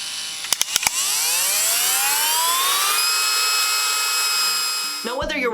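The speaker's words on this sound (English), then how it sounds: "That's why I love this one, because it has 5 different speed settings. Just listen to its range." A handheld rotary tool from a 35-piece kit spins up with a few clicks, its high whine rising steadily in pitch through five speed settings, then holds a loud, steady scream before winding down.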